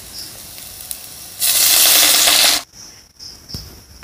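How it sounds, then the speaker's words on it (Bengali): Water poured into a hot pan of fried soybeans, a loud burst of hissing sizzle lasting about a second, cutting off abruptly, with faint clinks and scraping before and after. "এবার আমি এর মধ্যে জল দিয়ে দেব।"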